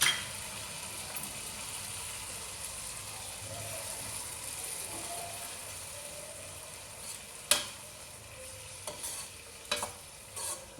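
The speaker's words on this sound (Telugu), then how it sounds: "ఇప్పుడు పోపు ఉడుకుతుంది కదా" A spiced tempering sizzles in a pan while being stirred for a tamarind-based dish, a steady, soft, close frying hiss broken by a few sharp scraping clicks from the utensil. No talking is heard.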